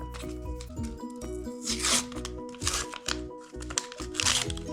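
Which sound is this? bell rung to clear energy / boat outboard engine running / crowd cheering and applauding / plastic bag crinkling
plastic bag crinkling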